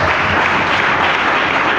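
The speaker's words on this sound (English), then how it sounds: "Can we give a round of applause to the speakers?" Sustained applause from an audience honoring the speakers at a talent-to-business masterclass, dense and steady throughout, loud and close with no voices over it.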